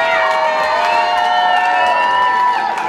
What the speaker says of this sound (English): a round of applause for your runner-up for the red corner